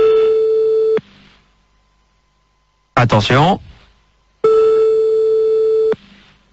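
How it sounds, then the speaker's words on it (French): Sandy's mobile phone rings with two loud, steady electronic tone bursts, each lasting about a second, separated by a pause in which a voice briefly speaks. "on refait sonner de nouveau le portable de Sandy"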